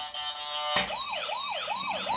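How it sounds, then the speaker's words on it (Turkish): A toy ambulance with lights sounds its siren up close, a bright electronic tone that turns into a rapid rising and falling wail after a short click, loud and with no talk over it. "Işıklı ambulans. Ama onu çalıştırman lazım yoksa gitmez."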